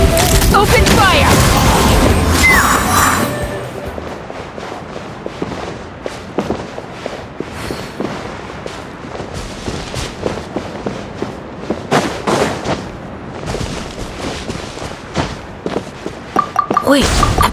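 Cannon fire and explosions in Genshin Impact at the Sunspray Summer Resort: a loud, dense blast roars through the first three seconds, then scattered booms, thuds and mechanical clatter repeat irregularly over continuous game sound.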